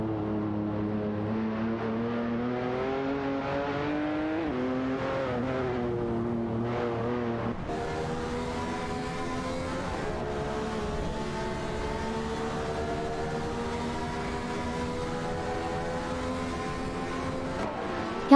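Race cars in a racing video game, including a Ferrari and a Porsche 718 Cayman, hold a steady, continuous engine drone whose pitch rises and shifts as they accelerate, with a sharper change partway through and no voices.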